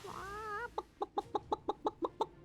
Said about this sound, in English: What timing for the chicken?